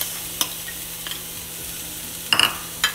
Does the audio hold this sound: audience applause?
no